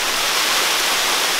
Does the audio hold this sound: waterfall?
yes